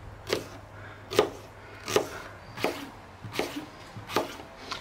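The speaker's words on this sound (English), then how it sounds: "And you can see I'm cutting these nice and thin." An onion is sliced thin on a board while cooking at a backpacking camp: six evenly spaced knife chops, close and crisp, with quiet pauses between strokes.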